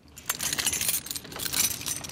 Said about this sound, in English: These are the original keys used on Pet Sounds.